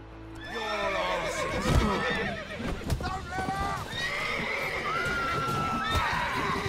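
A horse whinnies loudly in the Witcher 3 video game, with hooves clip-clopping nearby while characters speak over it.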